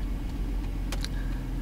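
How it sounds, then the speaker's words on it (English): Cars moving through Long Island traffic, a steady low engine and road rumble nearby with a couple of brief faint higher noises partway through; no talking. "Long Island traffic"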